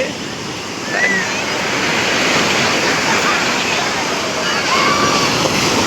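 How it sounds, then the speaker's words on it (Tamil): Sea waves wash up the crowded beach by the Tiruchendur Murugan temple. A constant loud roar of breaking surf and rushing foam swells slightly as waves arrive, with voices mixed faintly into the wash. "ஆனால் நல்லா அலை இங்கே வரைக்குமே வருது"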